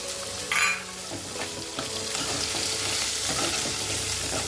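Potatoes and onions frying in a pan for batata poha, a steady broadband sizzle running throughout with occasional stirring scrapes and a brief louder hiss near the start, no voices.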